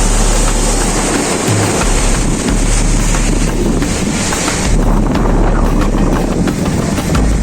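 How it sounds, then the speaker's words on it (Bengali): Sea waves roar without a break on Parki beach, with strong wind buffeting the microphone. The broadband surf stays loud and close the whole time, and no voices are heard over it. "সাগরের ঢেউয়ের আওয়াজগুলো শুনলেও অসাধারণ লাগে"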